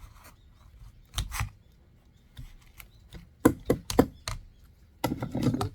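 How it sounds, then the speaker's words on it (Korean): Wire cutters snip and tear bark from juniper plant stems, making a close, irregular series of sharp clicks and crunches, clustered and growing denser toward the end. "이게 철사가위 가지고 이렇게 뜯어냅니다"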